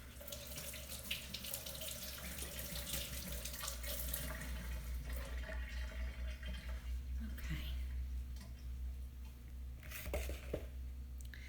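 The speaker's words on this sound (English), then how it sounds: "Let me wash this off real quick." Water runs steadily from a kitchen tap into a sink while something is rinsed off during meatloaf making, a close, continuous splashing stream with small clatters toward the end.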